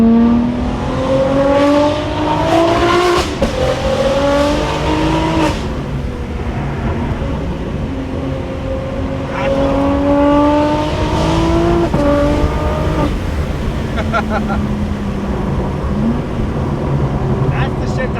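BMW M3/M4 with the S58 engine and Valvetronic Designs HFD midpipe exhaust, revving loud and close in repeated rising sweeps with a deep smooth drone between pulls; people talk over it.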